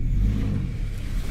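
A car engine revving hard as the vehicle climbs a hill track in a forest, a loud, close, low drone that holds steady through the short moment.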